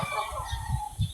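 Hens walking about in a yard give a few short, soft clucks, spaced out and fairly close over a faint background.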